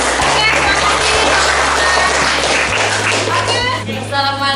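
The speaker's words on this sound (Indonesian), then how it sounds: "kita tepuk tangan dulu untuk Bapak kita" A classroom of students claps for their teacher in a loud, close burst of dense applause lasting several seconds, with children's voices and a low hum underneath.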